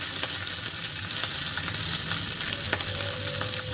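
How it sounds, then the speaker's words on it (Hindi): Rice tipped into a hot pan with cumin for jeera rice, giving a dense continuous sizzle with scattered crackles and stirring scrapes, close and fairly loud. "अब हम इसमें राइस ऐड कर देंगे। हीट को स्लो कर देंगे और राइस इसमें ऐड कर देंगे।"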